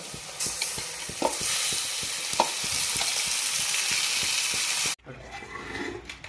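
Octopus pieces fry in butter while being stirred, a loud close sizzle with regular scraping strokes of the spoon against the pan; the sizzle cuts off abruptly near the end, leaving a quieter low bubbling.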